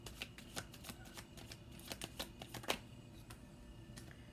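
Tarot cards are shuffled by hand in a quiet room, a run of soft, quick riffling clicks and slaps with small bursts of flicking.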